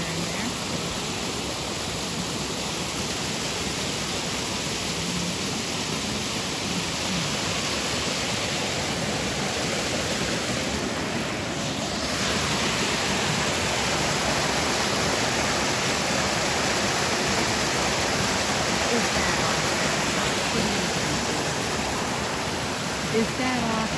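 Smalls Falls waterfall in Maine roars as a steady, loud broadband rush of falling water filling the whole scene evenly, with a faint voice at times.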